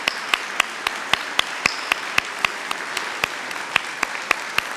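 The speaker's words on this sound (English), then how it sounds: "let's give one more round of applause for the heroes of our greatest generation." A crowd at a WWII veterans victory gala applauds, with a soft bed of clapping under a slow, regular series of sharp, louder claps standing out roughly every quarter second.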